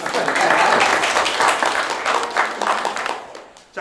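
A church congregation at an Easter thanksgiving service claps for Lia, a cast member of the performance, with loud, dense applause that holds steady and then tapers off toward the close.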